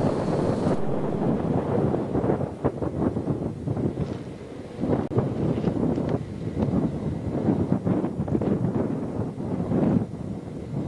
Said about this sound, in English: as you can probably tell, the wind is really blowing.